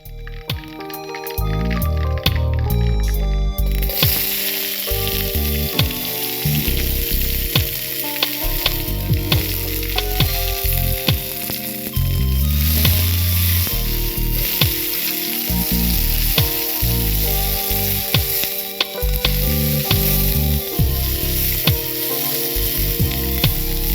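Beef stir-frying in a pot for noodles, a loud continuous sizzle with frequent stirring scrapes and clatter running steadily throughout, no talking.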